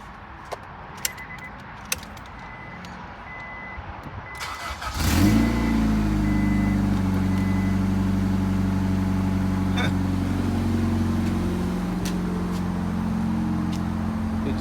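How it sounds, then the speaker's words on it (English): A 6th-generation Honda Accord with a newly installed exhaust cranks and fires up, then settles into a loud, deep rumbling idle with a raspy exhaust tone; faint jingling and clicks come before the start. "It's gonna be the first start of like the actual exhaust in the car."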